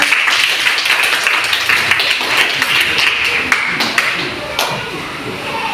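A class of students claps hands in a classroom, a run of sharp, fairly close claps with uneven rhythm lasting several seconds, with some voices mixed in.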